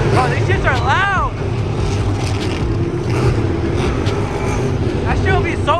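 Loud monster truck engines roar continuously at an outdoor monster truck event, a dense wall of engine noise that stays heavy throughout, with people talking and shouting over it.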